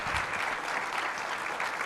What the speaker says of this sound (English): So I want to give our panelists a round of applause and thank them.